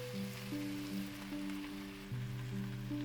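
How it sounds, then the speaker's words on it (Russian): Cabbage sizzling in a hot frying pan, a dense, constant hiss like light rain, fairly quiet, with a steady tonal hum underneath and no speech. "Теперь отправляем капусту в сковородку"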